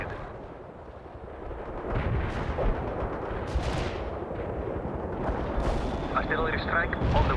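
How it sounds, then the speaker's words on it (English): Artillery shells strike and explode in the World in Conflict war game, heavy rumbling booms rolling one into another over several seconds with distant crackling. "Artillery strike on the way."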